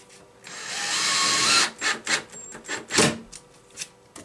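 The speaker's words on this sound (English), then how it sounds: "To attach the plywood to the 2x4s, I'm just using 1 1/4" drywall screws." A power drill drives 1 1/4-inch drywall screws through plywood into 2x4s for a workbench: one long sustained whir, then several short bursts of the motor, loud and close, with no talk.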